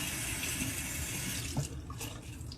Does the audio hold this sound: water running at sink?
yes